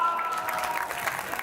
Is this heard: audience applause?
yes